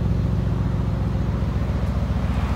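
Mercedes C63S engine rumbles steadily at close range, a deep, throbbing idle with a pulsing low-end burble and a faint background hiss, with no change in pitch across the short stretch.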